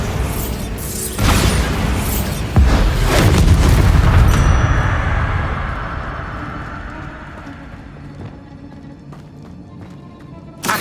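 In a Harry Potter video game, a Bombarda explosion spell goes off with a loud, heavy boom, then a rumbling roar that slowly dies away over several seconds.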